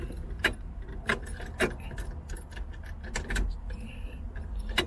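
Car key jangling and scraping at the ignition of a 1973 Dodge Charger, with several sharp metallic clinks over about five seconds close up inside the car, and no talking.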